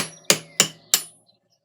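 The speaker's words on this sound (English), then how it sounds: "we're just going to lightly tap on the tang with our hammer." Three evenly spaced, light hammer taps on the tang of a knife blade to knock a guard off, each a sharp metallic ring that decays quickly, close and clear with no talk.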